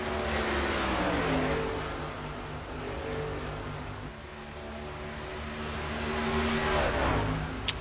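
Race trucks from the Redlight Racing Series roaring side by side into turn one, engines droning loud and steady with shifting pitches as they pass, the sound dipping midway and swelling again.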